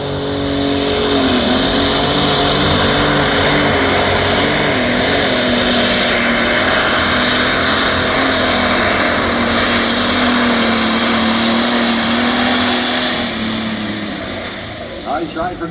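A Case 7250 Magnum tractor at a tractor pull roars with a loud, sustained engine drone held at steady high revs for most of the run, easing off near the end, with an announcer talking over it.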